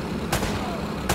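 Gunfire in the video game Uncharted: Drake's Fortune on PS4, two short sharp broadband shots about three-quarters of a second apart, set against steady game ambience with no talk.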